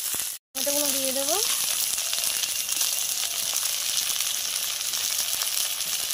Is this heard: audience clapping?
no